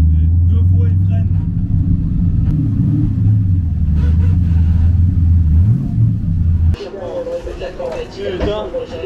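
Race car engine at the Calmont hill climb, held at full throttle with a loud, steady low drone for most of the run, then cutting to a busier, higher roar near the end, with voices talking over it.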